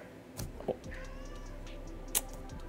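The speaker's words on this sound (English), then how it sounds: "My cat doesn't like that idea, it seems, if you heard that." A cat gives a single drawn-out meow nearby, with a few soft knocks before and after over a quiet background hum.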